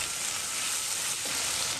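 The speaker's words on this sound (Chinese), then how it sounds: "再把调好的酱倒入锅中，多炒一会儿，翻炒出酱香味儿" Sauce sizzles in a hot wok with crumbled egg as it is stir-fried, a steady, close, loud hiss with faint scraping underneath.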